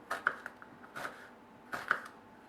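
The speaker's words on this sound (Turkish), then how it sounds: "Onu piyazlık şöyle iri iri doğrayacağım." Knife chopping an onion into large pieces on a board for a chicken liver dish, a few quiet separate clicks and taps in small pairs with pauses between.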